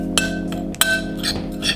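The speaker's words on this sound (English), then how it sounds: "why are you stirring it with a spoon?" A spoon stirring in a bowl, with two sharp bright clinks against the side and softer scraping taps between them, close and clear with a steady background hum.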